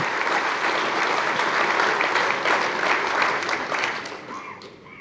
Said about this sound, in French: On peut l'applaudir même s'il n'est pas là.